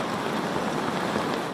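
Heavy rain falls in Valenzuela during a flood, a dense, steady hiss of downpour drumming on surfaces with no voices.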